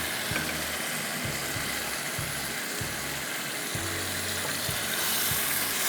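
Chicken masala sizzles loudly in a pan after a splash of water, a steady hissing bubble with soft rhythmic thuds of a spoon stirring throughout, close and without talk.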